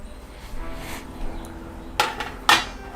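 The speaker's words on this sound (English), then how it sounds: "I'm just making about 1/2-inch slices" A knife chops through food into half-inch slices for a Philly-style spaghetti dish, giving two sharp, close knocks against a cutting board after a stretch of quieter handling.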